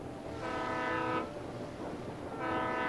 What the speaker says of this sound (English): Hello, train. Empty train.